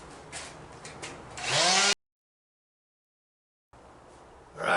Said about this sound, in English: got an electric sander here. We're just going to buff all this shit out.